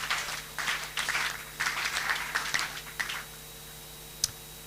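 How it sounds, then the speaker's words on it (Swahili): Light applause rises at a church wedding in Buruburu for the bride's guardian, several short bursts of clapping from a modest crowd, fading out into a quiet room. "Makofi kwake jameni."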